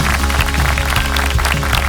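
Audience applause for a team's mentors at a Christmas praise event: steady, dense clapping from a crowd, loud and continuous throughout.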